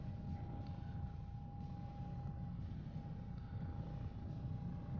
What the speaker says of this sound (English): This is a nice helicopter.